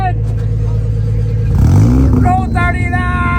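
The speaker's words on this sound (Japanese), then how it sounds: "今からもう出るらしいのでエンジンをちょっとかけてもらいたいと思います。" A Mazda RX-7 FC rotary engine idles loudly up close, then gives a quick rising rev that falls back to a rough, burbling idle, with brief voices in the background.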